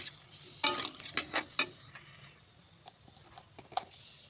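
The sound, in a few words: onion, chilli and cumin pastes sizzling as they fry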